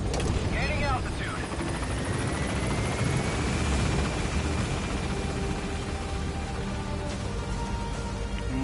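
A helicopter in the Metal Gear Solid video game climbing as it gains altitude, a loud, dense rotor roar with whining turbine tones that fills the whole clip steadily up close.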